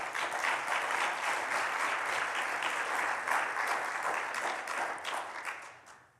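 A church congregation applauds steadily, a dense wash of many hands clapping at even strength for several seconds before trailing off near the end, with no talk over it.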